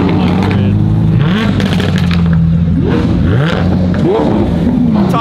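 A Lamborghini Aventador LP700 engine revs loudly and close by, with rising and falling pitch sweeps from repeated throttle blips over a steady low rumble, with people talking underneath.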